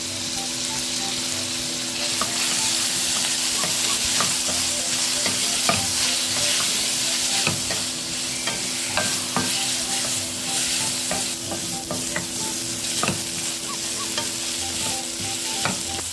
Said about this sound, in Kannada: ಎಲ್ಲ ಒಟ್ಟಿಗೆ ಹಾಕಿ ಹುರ್ಕೊತಾ ಇದ್ದೀನಿ